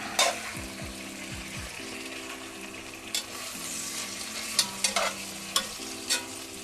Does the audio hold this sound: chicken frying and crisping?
yes